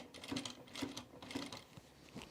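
A sewing machine works slowly over a blazer seam with a stout needle. Faint, close mechanical clicks repeat at a steady pace, about two per second.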